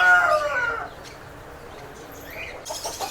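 A rooster clucks and gives short crowing calls, fairly loud at the start and then fading. A brief, higher cry comes near the end, with no talking.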